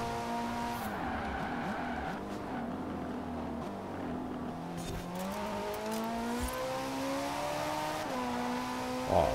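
Ferrari 458 Speciale engine at full throttle in Forza Horizon 4, a high-pitched naturally aspirated wail climbing through gears with brief shift dips, steady and close throughout.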